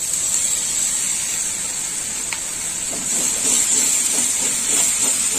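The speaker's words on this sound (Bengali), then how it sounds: "দিয়ে দিলাম টমেটো বাটা।" Tomato paste hitting hot ghee and spices in a pan while cooking prawns with vegetables, giving a steady loud hiss of sizzling frying that holds constant throughout, with faint stirring taps toward the end.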